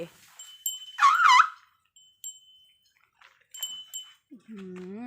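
An elephant eating snacks gives a short, loud, high squealing call, followed by quiet shuffling and then a lower, wavering tonal call near the end.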